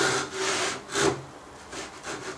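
A hand saw cuts wood for a Roubo bookstand joint in a few close, rasping strokes with a steady back-and-forth rhythm, slowing to lighter, shorter strokes toward the end; no one speaks.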